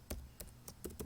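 Short burst of typing on a computer keyboard, four or five soft separate key taps at an uneven pace, quiet and close, with no talking.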